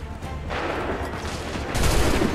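Musket volleys from soldiers in Assassin's Creed III crackle across a dense battlefield din, building to a heavier burst of fire near the end.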